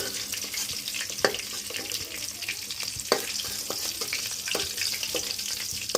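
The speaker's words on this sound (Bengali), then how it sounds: "এবার ফুলকপিগুলো ভাজা হয়ে গিয়েছে" Cauliflower pieces fry in hot oil with a continuous soft sizzle and scattered sharp crackles and pops, fairly faint and close, without speech.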